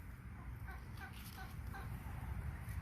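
A pet chicken clucks in short, soft repeated bursts, faint against a steady low background rumble, with no talk.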